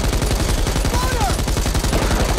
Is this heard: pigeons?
no